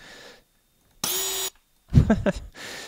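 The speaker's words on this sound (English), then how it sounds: "there's a drill sound when you add things" Short mechanical drill bursts sound as parts are added in the PinBuilder video game. A bright whirring buzz lasts about half a second, then a rougher grinding stutter follows, separated by brief silences.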